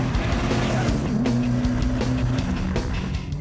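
Stacey David's Ol' Smoke, a C6 Corvette with a rear-mounted twin-turbo engine, pulls hard at full throttle on a track, its steady, loud engine drone holding close and constant with faint shifts in pitch.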